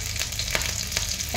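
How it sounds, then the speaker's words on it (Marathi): Green chillies and garlic roasting in a pan for Maharashtrian khardа give a steady, close crackling sizzle with a few faint stirring taps, and no voices. "तर आता थोडं मिरच्या कणी असं डाग होईल तोपर्यंत अशा भाजून घ्यायचं"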